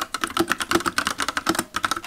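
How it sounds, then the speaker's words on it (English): Steady, fast typing on a custom-built mechanical keyboard, each key giving a crisp clack in a quick, fairly even rhythm, heard up close with no voices. "I absolutely adore my new mechanical keyboard. It sounds fucking unreal."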